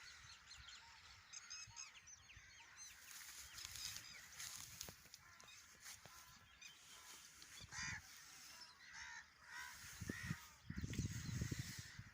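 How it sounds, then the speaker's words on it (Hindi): Faint, distant calls from a flock of wild ducks over a pond, repeated honking cries rising and falling over a low outdoor hiss. "ये सारी मुर्गाबियाँ आ रही हैं"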